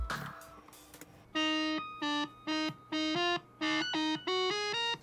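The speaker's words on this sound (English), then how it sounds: "I'll add a bit of distortion here in the synth." Buzzy, distorted synth notes played in short sustained bursts, a rising sequence of held tones with a gritty, guitar-like edge.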